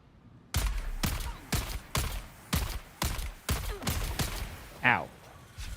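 Sniper rifle fire in Dune Awakening: a steady series of about eight heavy, booming single shots roughly half a second to a second apart, loud and close, with a brief vocal exclamation near the end.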